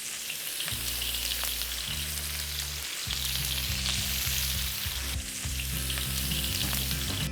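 Steady, loud sizzling of beef searing in a hot wok, crackling continuously with occasional stirring scrapes and no talking.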